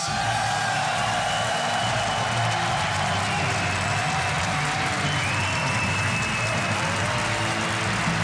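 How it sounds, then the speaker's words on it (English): A packed crowd at a StarCraft tournament, the WCS Europe quarterfinals, fills the room with steady applause, cheering and scattered whoops that hold at an even, loud level for about eight seconds. "Give it up for Scarlett."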